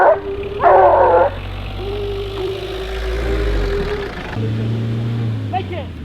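A hunting dog barks during a hare hunt in open country, a few short barks near the start over a running car engine that idles and hums through the rest, with faint voices nearby.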